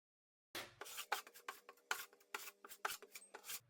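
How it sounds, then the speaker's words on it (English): A notch trowel spreads floor adhesive in firm, repeated rasping scrapes, about a dozen short strokes in an uneven rhythm, close and clear with no talking. "So use that notch trowel and just try to spread it really well."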